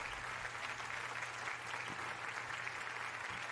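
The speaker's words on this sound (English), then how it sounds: "And the crowd goes wild." Crowd cheering and applause in an Ace Attorney fangame, a steady dense wash of clapping and cheers that holds evenly through the clip, with a low musical tone underneath early on.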